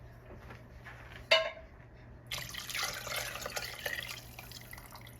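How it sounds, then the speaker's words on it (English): Water runs into a dish being rinsed at a kitchen sink while making chicken noodle soup, a clink and splash followed by a steady hiss of flowing water, close by. "I'm going to rinse this dish out with water"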